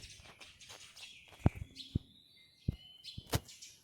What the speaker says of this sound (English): There's just way too many sparrows. Lots and lots of sparrows.